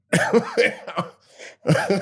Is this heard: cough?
yes